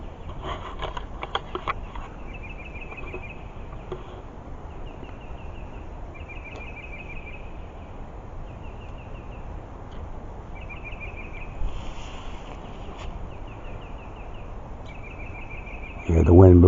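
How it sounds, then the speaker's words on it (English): A bird calls repeatedly at a distance in the Tyler State Park forest along a loop trail, short chirping phrases recurring over a steady outdoor hiss with rustling. "If you know the sound of that bird"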